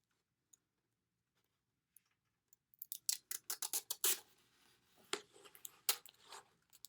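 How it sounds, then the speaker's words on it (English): Tape pulled off a roll and wrapped around the point of a homemade sword: after a few faint ticks, a quick run of sharp crackling rips and tears, close and irregular, with no talking. "Put some tape around the end to make it a little bit stronger."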